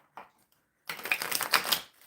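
Tarot cards are shuffled close up in a quick riffling, flapping burst lasting about a second, after a faint earlier tap and near silence.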